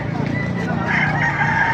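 A rooster crows in one long, loud call close by in Baliuag, Bulacan, Philippines, with faint background noise and no talking.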